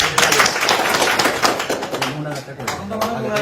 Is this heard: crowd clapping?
yes